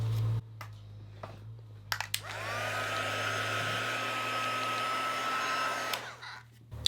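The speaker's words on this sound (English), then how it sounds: "preferably if you have a hairdryer, set it with a hairdryer" A hair dryer blows steadily for about five seconds to dry watercolour paint on paper, a close, loud continuous whoosh with a faint whine, preceded by a few clicks and handling knocks.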